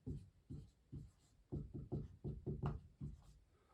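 A pen writes on paper close by, making soft scratchy strokes in short repeated bursts, quiet and with no one talking.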